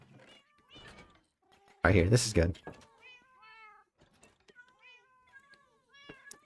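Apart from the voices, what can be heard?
cats meowing in Minecraft (video game)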